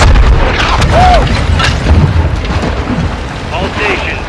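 Artillery strikes pounding in the Call of Duty Modern Warfare 2 campaign, a loud continuous rumble of booming explosions with crackling debris and faint radio-like voices mixed in.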